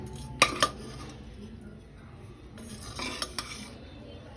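Curry leaves and kasuri methi stirred in a pan for Karnataka-style vangibath, with a few sharp metal spoon clinks and scrapes against the pan over a faint background sizzle.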